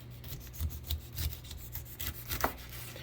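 Knife trimming the skin and eyes off a pineapple, heard as soft repeated rubbing and scraping cuts with a few firmer strokes, close and alone with no talk.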